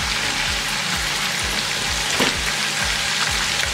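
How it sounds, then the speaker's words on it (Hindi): Ginger garlic paste frying in hot oil in a pan, a steady close sizzle with crackling pops and occasional stirring scrapes, no voices. "इसको आधे मिनट के लिए अच्छे से भून लेंगे"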